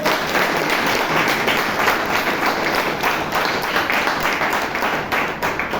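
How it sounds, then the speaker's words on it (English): A room of people at a Bangalore Toastmasters meeting gives the tag team a loud, sustained round of applause, dense clapping continuing steadily throughout. "may I request you to give the tag team a huge round of applause"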